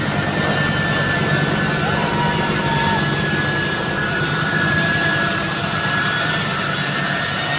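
Aircraft engine noise from an airplane as it starts to ascend after takeoff, a steady loud broadband roar with a low rumble, continuous and close throughout, with no clear talk.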